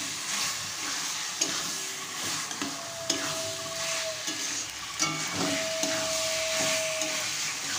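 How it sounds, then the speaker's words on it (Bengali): Mushrooms and potatoes are sautéed in spices over a low flame, giving a steady sizzle with intermittent scraping strokes of a spatula and a faint tonal hiss at times. Nobody speaks. "মশলাটার মধ্যে মাশরুম এবং আলু দিয়ে ভালো করে কষাতে হবে"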